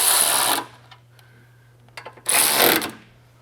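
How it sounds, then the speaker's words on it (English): A wrench tightens skid plate bolts under a Duramax 3.0L diesel truck: two loud, sustained bursts of rapid ratcheting clicks with a brief pause and a few isolated clicks between them, close up. "So we're just going to tighten this up"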